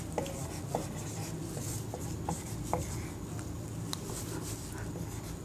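Chalk tapping and scratching on a classroom board in short irregular strokes, faint under a steady room hiss with no talk.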